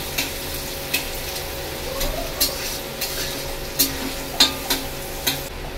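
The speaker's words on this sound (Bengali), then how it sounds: "এবার পেঁয়াজ কুচিটাকে এবার ভালো করে নরম করে ভাজবো।" Chopped onions sizzle steadily in a pan for a mutton curry, with a spatula scraping and stirring in a loose rhythm of sharp clicks every half second or so, close and fairly quiet, no voices.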